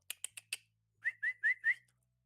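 A person whistles to call a farm dog with four short sharp chirps, then four longer rising whistled notes in a quick rhythm. The whistling is faint and isolated against a quiet background.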